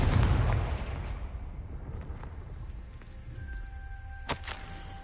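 A Confringo spell blast in a Harry Potter video game: a loud booming explosion at the start that rolls off into a decaying rumble, followed by a couple of faint bright zings.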